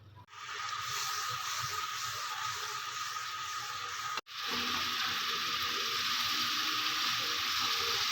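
Ground garlic and onion paste frying in oil for kadhi pakora: a steady, close, bright sizzle that cuts out for an instant midway, then resumes just as strongly.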